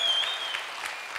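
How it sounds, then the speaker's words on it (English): A church congregation applauds the Lord with steady, dense clapping that runs evenly throughout, loud and close, with no voices over it. "give the Lord a big round of applause"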